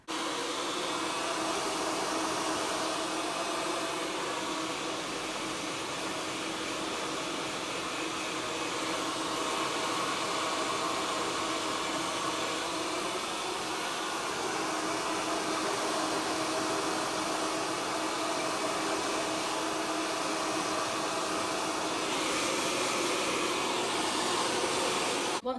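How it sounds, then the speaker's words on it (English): A handheld hair dryer runs continuously while rough-drying hair, a steady loud broadband whoosh with no pauses or talk for the whole stretch. "grab your hairdryer and you're just going to rough dry all of your hair as much as you can"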